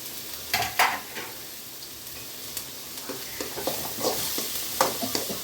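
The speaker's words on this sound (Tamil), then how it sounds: "இந்த வெங்காயம் வந்து நல்லா கலர் மாறுற வரைக்கும் நல்லா வதக்கணும்." Onions sautéing in a pan, a gentle sizzle broken by irregular scrapes and clinks of a spatula stirring, close and moderately quiet.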